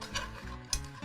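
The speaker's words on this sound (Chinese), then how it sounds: "我们就拌均匀" Freshly fried Shanghai smoked fish is stirred into a thick, cooled sauce, giving two short wet scraping strokes with a faint sizzle, close and alone.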